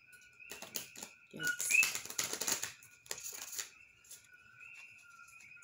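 A deck of tarot cards is shuffled up close in quick, fluttering bursts of riffling, fairly quiet, with a steady tone in the background and a brief spoken word.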